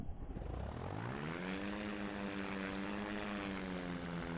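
A light aircraft's propeller windmills and its engine restarts in flight, a rough low rumble that rises into a loud, steady droning hum with clear tonal overtones, with no voices.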